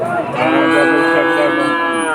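Calves moo repeatedly and loudly at Udaypur cattle market in Bagerhat, their overlapping bleating calls filling the busy livestock market close by.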